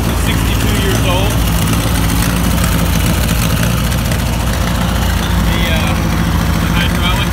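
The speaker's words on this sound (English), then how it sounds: "Running a little tractor for 62 years old." A small 62-year-old tractor engine runs close and loud, its steady low chugging idle droning throughout.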